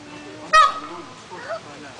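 A peacock gives a single short, nasal honking call nearby, with a softer second call and faint background voices.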